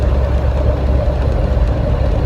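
A 13-speed truck engine running as the driver eases off the gas and shifts up, a steady, low rumbling drone close by with slight fluctuations.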